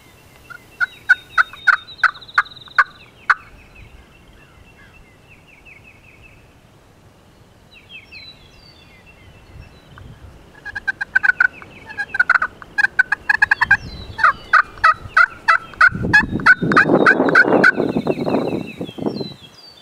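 Wild turkey longbeards gobble repeatedly while strutting, loud and fairly near, in rattling bursts spread through the stretch, with a louder rushing noise building near the end.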